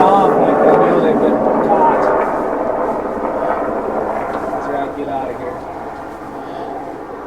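An aircraft passes overhead near a remote muddy fishing spot, a broad rumbling roar that slowly fades, with people talking underneath.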